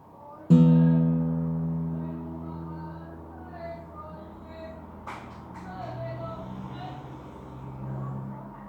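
A Westone W-20 electric guitar made in Japan has its low sixth string plucked once, ringing out with a clear sustained tone that slowly decays while someone talks quietly underneath.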